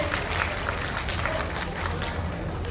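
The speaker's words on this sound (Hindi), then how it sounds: "जोरदार रूप से ताली बजा के स्वागत करें।" A crowd applauds to welcome newly elected party leaders at the first provincial convention of Janata Samajbadi Party Nepal in Madhesh, steady dense clapping throughout with voices mixed in.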